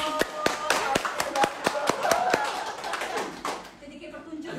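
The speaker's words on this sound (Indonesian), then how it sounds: "Oh, tepuk tangan lagi." Clapping from a small audience at a live cast event for a film, a string of sharp, close claps in an uneven rhythm over talk that fades after a few seconds.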